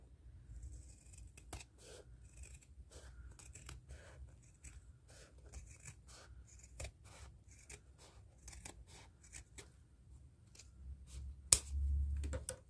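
Scissors snip through fabric pieces cut for a baby toiletry bag, a long series of quiet, close, crisp cuts at an uneven rhythm, with faint handling between them and no talk.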